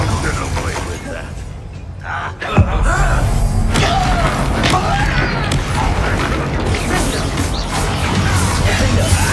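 Confringo fire spells blast during a Hogwarts Legacy duel, with a sharp explosive thump and crackling impacts under ongoing combat noise and spoken spell incantations.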